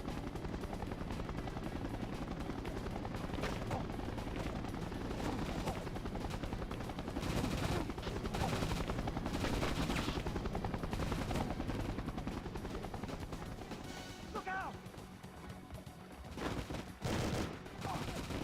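Gunfire in the video game 007: The World Is Not Enough rattles in dense bursts over a steady helicopter-like drone, loud and continuous with brief sharper shots near the end.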